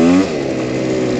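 A motorcycle engine riding on a dirt trail at night, revving high as the throttle twists and then settling into a steady, close drone.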